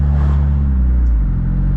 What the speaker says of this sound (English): driving the panel wagon